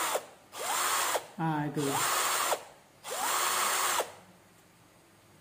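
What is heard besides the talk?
cordless hand drill drilling concrete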